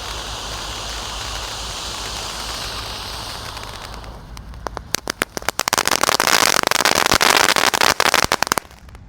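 A 4-inch Koning Fountain firework, first a steady hissing spray, then a loud burst of rapid crackling pops that fills the second half before cutting off.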